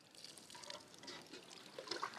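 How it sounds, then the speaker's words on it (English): Water poured over a t-shirt wrapped around a steam hose in the bush, a soft close splashing trickle that swells and ends in a few brighter drips, no talk. "What I have to do is condense that steam by pouring water over this t-shirt"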